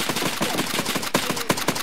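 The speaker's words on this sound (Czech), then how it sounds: "Slyšel jsem ještě nějakou palbu." Rapid bursts of gunfire crack in close succession like automatic fire, loud and dense throughout, with a few sharper reports standing out near the end.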